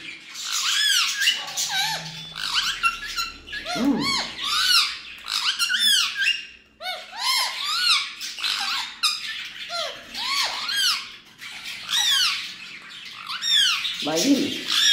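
A peacock gives repeated loud, harsh squawking calls at close range. The rapid shrill bursts overlap and continue through the whole stretch, with a few brief voices underneath.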